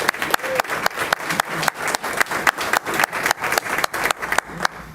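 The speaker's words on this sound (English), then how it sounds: "Let's applaud that." An audience at a board of education meeting applauds, the claps coming in quick, fairly regular bursts that fade out toward the end.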